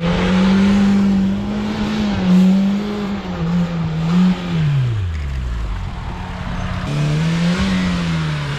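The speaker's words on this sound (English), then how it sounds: "So we're driving through the fields" A car drives through rough fields near a former Soviet airbase, its engine holding a loud steady drone that drops as it slows, then rises again as it picks up, heard close with no talking.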